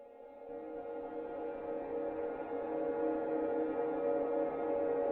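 A sustained, shimmering synth pad swells slowly and holds steady, rich in layered harmonics with a washed, effected texture, playing alone without any voices.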